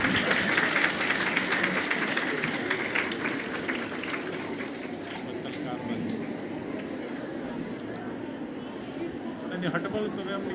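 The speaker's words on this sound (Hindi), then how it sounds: "आप सब लोग तालियों से उनका स्वागत करेंगे।" An audience at a women's empowerment event applauds to welcome a guest, steady moderate clapping blended with crowd chatter and background hum that fades slightly and then swells again near the end.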